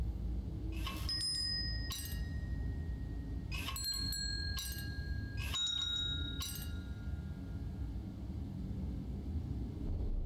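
Bells in the puzzle game The Room 4: Old Sins ring in several separate bright chimes with long shimmering decays, clustered in bursts over a low steady ambient hum, with no speech.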